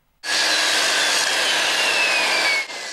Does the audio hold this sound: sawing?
yes